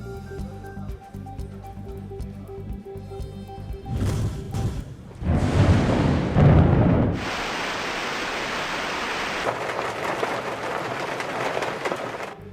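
Torrential rain pours steadily over cities across Punjab, including Lahore and Rawalpindi, on a cold winter day, a dense broadband hiss that follows a brief music bed.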